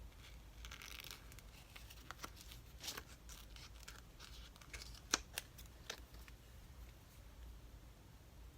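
Scissors snip out paper pieces for a layered postcard, with quiet crisp cuts and faint rustling, sparse irregular clicks standing alone in a still room.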